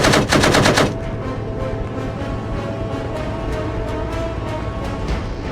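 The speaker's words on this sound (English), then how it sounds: "engage them with the chain gun" A chain gun fires in Arma 3: a loud, rapid burst of shots up close, followed by steadier distant gunfire rattling on in the background.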